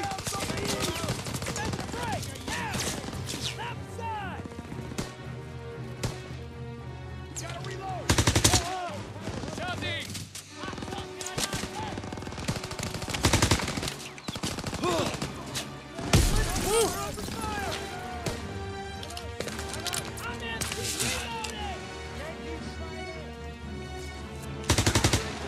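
Machine gun fire rattles in Call of Duty: WWII, long bursts and single shots mixed with loud blasts and game sounds, continuing throughout with heavy intensity.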